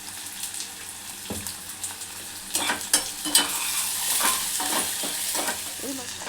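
Onions fry with a pinch of salt in a pan for a red lentil dal, a steady close sizzle with soft stirring scrapes that grow louder and busier halfway through, no voices.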